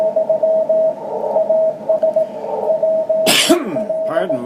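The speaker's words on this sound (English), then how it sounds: "Pardon my coughing here." Over a steady shortwave radio hum around 14 megahertz with intermittent beeping tones, someone coughs sharply once near the end, close and loud.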